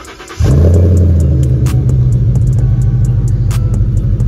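A Mustang GT Premium V8 with an axle-back exhaust fires up and settles into a loud, steady rumbling idle close by, with no talking over it.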